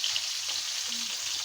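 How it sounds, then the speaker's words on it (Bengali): Pieces of nola fish frying in hot oil for a tomato curry, a steady broadband sizzle that holds evenly throughout with no voices over it. "মাছগুলো আমার ভাজা হয়ে গেছে, আমি নামিয়ে নেব।"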